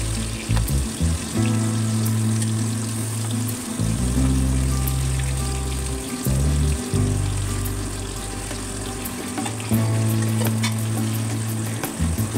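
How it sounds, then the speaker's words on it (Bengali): Fish fry in a pan with a steady crackling sizzle, broken by intermittent bursts of a low mechanical hum from nearby kitchen equipment that stops and restarts. "এই যে এদিকে আমার মাছ ভাজা চলছে"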